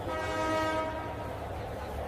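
A train at Warangal railway station sounds a loud, sustained horn with steady harmonic tones for most of a second, then fades into continuous low rumbling platform and rail noise.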